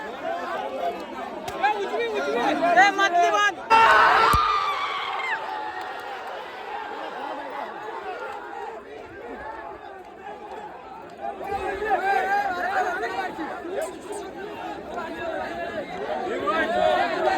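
A crowd at a bullock cart race chatters loudly, with a sharp burst of shouting near the start that subsides into sustained murmuring babble, swelling again later.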